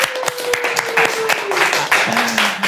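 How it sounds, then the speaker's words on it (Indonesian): An audience applauds at a studio talk show, a dense patter of many hands clapping steadily at close range, with a sustained tone held beneath the clapping. "Boleh dong minta tepuk tangannya."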